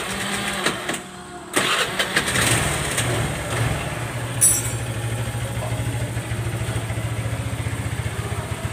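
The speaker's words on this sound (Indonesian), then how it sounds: "hidupkan motornya." Honda motorcycle engine cranks and starts after a brief pause, then idles continuously with a steady close pulsing throb whose speed drifts unevenly up and down; no talking over it.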